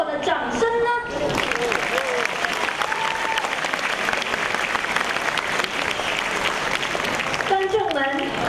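An audience at a school cultural night applauds after a violin performance by students. The clapping is loud and sustained across the hall, with a voice speaking over it at the start and again near the end.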